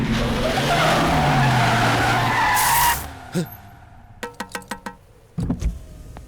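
A car speeds in and skids to a stop with loud tire noise, followed by several sharp door thumps and clicks as it halts.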